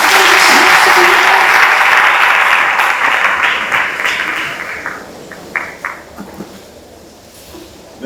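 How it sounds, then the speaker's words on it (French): A church concert audience bursts into loud, dense applause and cheering that gradually thins out into scattered claps and fades away. "nous acclamons très fort"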